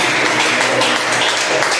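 A church congregation at a Baptist deliverance service bursts into a dense, steady round of applause that fills the space evenly from start to finish, with no voices rising above it.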